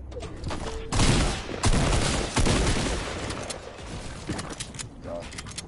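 Rapid video-game gunfire in an arena solos match, a few loud bursts of shots around the first half, then sparser pops and effects as a voice talks over the action.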